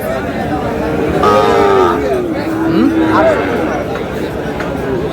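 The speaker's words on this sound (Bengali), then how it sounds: "শাহিওয়াল ষাঁড়" A Sahiwal bull lets out a couple of low, drawn-out moos over a busy background of people chatting nearby at a cattle market.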